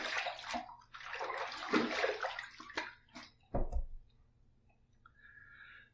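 Running water rinsing a razor and face after a two-pass shave with Monet shave soap, a broad splashing wash with breaks and a few clicks, then a quieter trickle near the end, no talk.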